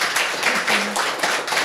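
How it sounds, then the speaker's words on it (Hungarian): An audience claps for a teacher at a school event, a short burst of scattered, moderately close hand claps with no voices over it. "egy tapsot a tanárnőnek esetleg"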